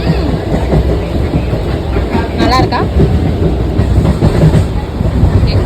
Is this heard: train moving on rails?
yes